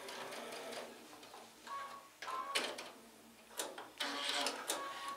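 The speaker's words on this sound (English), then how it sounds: "and I'm back stitching" Short bursts from a sewing machine back stitching a quilt block seam: several quick whirring runs separated by pauses and small handling clicks, close and moderately loud.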